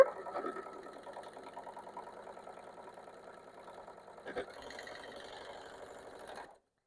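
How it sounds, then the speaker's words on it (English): A sewing machine stitching quilt pieces for a 3D illusion panel quilt, a steady rapid mechanical whirr running for several seconds with a brief pause and clunk, then stopping. "I can go ahead and just sew this part together."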